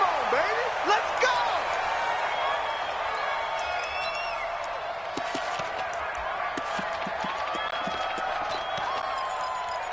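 Stadium crowd noise in a Madden NFL game, Los Angeles Rams versus Dallas Cowboys: a continuous roar of cheering and clapping with whistles, under a commentator's voice throughout.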